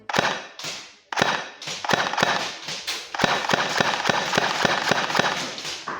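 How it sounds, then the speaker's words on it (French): A rapid series of sharp airsoft gun shots fired through a chronograph, crisp snapping cracks coming in close, irregular bursts that grow denser after a brief pause, loud and with no talk. "Alors c'est parti, je vais faire quelques tirs."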